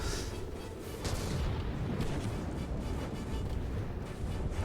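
A warship in the From the Depths video game fires its guns in a dense, continuous barrage of booming, rumbling shots with no pauses.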